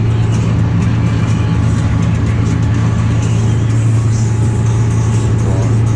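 A Deutz-Fahr 135 tractor runs a mulcher on a field, a loud, steady low engine drone with a strong constant hum and grinding, rattling mechanical noise over it, unbroken throughout.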